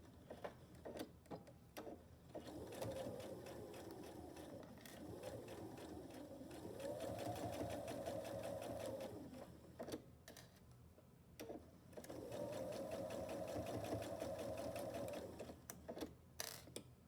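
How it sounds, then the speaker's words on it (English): A sewing machine stitches a quarter-inch seam attaching a ruffle to a reversible apron, running in several bursts of whirring with pauses and clicks between them, fairly quiet and close. "I'm attaching the ruffle to the one side of the apron with just a 1/4 inch seam"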